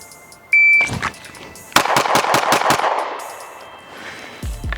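A Sig Sauer P320 pistol fires a rapid string of about six sharp gunshots close by on a shooting range, the cracks evenly spaced with a ringing timer beep before them and a faint voice at the end.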